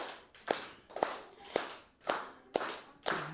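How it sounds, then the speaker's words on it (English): A group clapping a rhythmic tortilla fry bread clap at an audience gathering: six sharp, evenly spaced claps about half a second apart, each followed by a brief softer patting, fairly quiet and without talk. "What we do is kind of like a tortilla, fry bread clap, which goes something like this"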